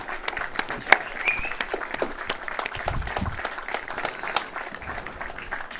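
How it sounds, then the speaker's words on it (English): A crowd at a high school baseball game applauds in a standing ovation for military honorees, a dense steady clapping that is moderately loud and fills the whole stretch, with cheers scattered through it. "Let's give all three of our honorees a big standing ovation"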